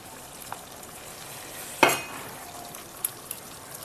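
Mutton curry with ginger paste being stirred in a pot, a steady frying sizzle throughout with one sharp scraping stir in the middle and a couple of light utensil taps near the end.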